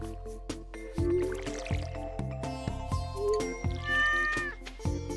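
A cat meows in the farming game Stardew Valley, a short rising in-game cry heard over steady background music with drip and squish effects nearby.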